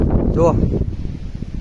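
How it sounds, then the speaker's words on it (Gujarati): Strong gusting wind during an unseasonal summer storm with lightning on farmland, a dense continuous roar pressing on the microphone, with a brief spoken word near the start. "પવન ખૂબ આવી રહ્યો છે"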